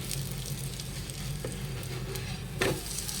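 Breakfast sizzling in a pan on a medium gas flame just after the lid comes off, a soft, steady frying crackle with a brief scrape near the end.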